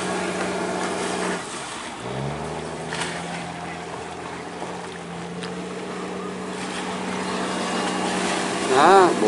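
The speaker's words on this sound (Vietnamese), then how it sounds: "Bủa chạy tiếng máy nghe đã không?" A fishing boat engine drones steadily with a low hum and rising pitch after a shift, over water and wind noise, with a brief whistle-like sweep near the end.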